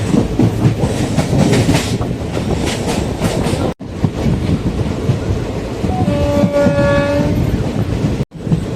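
A train running from Madurai to Coimbatore, with loud, steady rolling rumble and rattle heard from on board, plus a horn sounding in the distance partway through.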